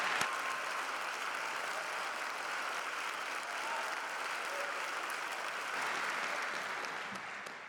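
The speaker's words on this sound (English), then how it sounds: "you most certainly deserve a very, very serious round of applause from us all" An audience applauds at a University of Illinois doctoral hooding ceremony, sustained dense clapping from a large crowd in a hall that holds steady for several seconds before beginning to thin out.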